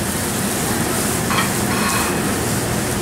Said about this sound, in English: I'm gonna add zucchini and yellow squash right in there, okay? Give it a nice toss.